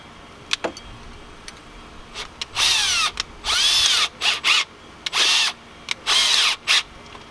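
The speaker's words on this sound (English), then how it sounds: "So I'm going to use a wood spade bit." A power drill with a wood spade bit bores a hole during a car dash mount build, sounding in several loud, whining bursts of a few seconds each, separated by short pauses and light handling clicks, close up.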